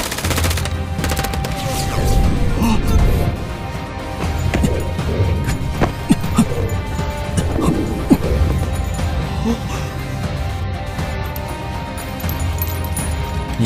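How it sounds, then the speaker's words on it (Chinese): Rapid bursts of gunfire with sharp cracks and impacts in an animated series, loud and sustained over several seconds with no talk. "快快开枪！"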